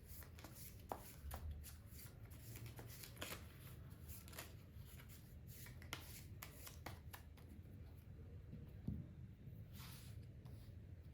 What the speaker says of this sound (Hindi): in the meantime I'll shuffle the cards for you